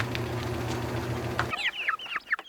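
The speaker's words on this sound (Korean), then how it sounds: "병아리라고 하기에는 좀 큰 녀석들인데요" Young chickens, hens too large to be chicks, cluck in a rural courtyard, a burst of close, lively, overlapping clucks after a low steady background hum.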